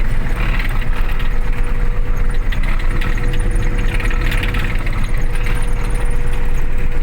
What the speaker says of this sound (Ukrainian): так я люблю на комбайні їхати